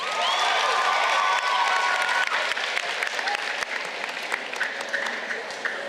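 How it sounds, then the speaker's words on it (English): A crowd at a senior graduation ceremony applauds, with loud sustained clapping mixed with cheers and some shouting. "Let's give you all a round of applause."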